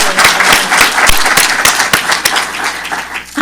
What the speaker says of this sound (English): give David one last round of applause